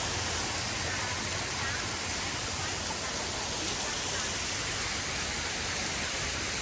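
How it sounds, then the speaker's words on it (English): Water spills downward at a waterfall park in a constant, hissing rush, close and even throughout the stretch, with a voice faintly present beneath the steady roar. "The water going down."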